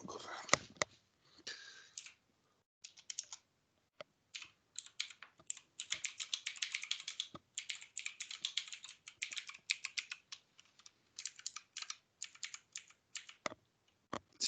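Someone types on a computer keyboard in rapid, irregular bursts of close, crisp key clicks, with short pauses between flurries and faint speech in places.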